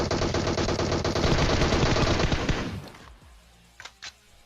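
Rapid automatic gunfire in PUBG Mobile, shooting out a window at a military base: a loud, close, sustained burst of fast shots lasting almost three seconds, then quiet with a couple of faint clinks.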